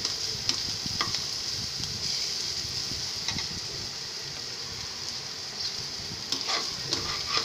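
Pointed gourd seeds and onion sizzle gently in a frying pan while a spoon stirs and scrapes them, with intermittent close clicks of the utensil against the pan over a steady frying hiss.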